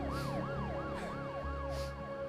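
An ambulance siren wails in a fast, regular rising-and-falling cycle, loud and close, steady over a low rumbling engine bed, with no talk.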